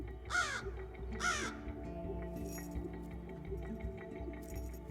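Crows give two loud, harsh warning caws about a second apart, close by, followed by quieter background bird sounds and a faint clinking tone.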